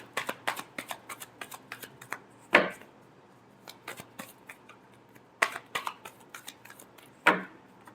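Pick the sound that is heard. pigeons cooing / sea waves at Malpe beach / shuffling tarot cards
shuffling tarot cards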